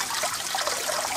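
Water trickles steadily down a small garden waterfall beside a concrete wall clad with willow matting, a soft continuous splashing at close range with no voices.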